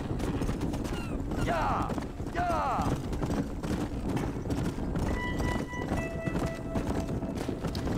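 Horse hooves clip-clop at a steady walking rhythm in the Western game Red Dead Redemption, set among cattle, moderately close and blended with ambient game sound and a speaking voice over the top.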